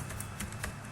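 Quick keystrokes tapped on a computer keyboard, a short burst of soft, close clicks in a quiet room.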